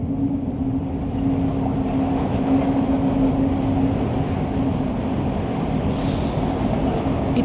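An underground train in the Broken Sword II game hums low and steady, a constant droning rumble with a held tonal whine and no break in level.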